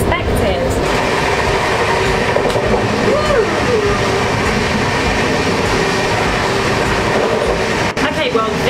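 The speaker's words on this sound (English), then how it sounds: "the train is moving so fast" The Rajdhani Express running fast between Agra and Delhi, heard from inside an AC first class coach: a loud, continuous rumble of wheels on rails with faint clatter and a brief squeal, with voices in the cabin.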